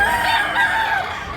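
A gamefowl rooster at a sale in Tabunok, Talisay, Cebu gives one near, loud crow, rising and then trailing off over a brief moment.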